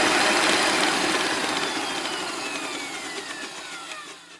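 An electric hand mixer whirs steadily through strawberry coconut cake batter, loud at first and slowly easing off, with a rough buzzing motor tone and no talking.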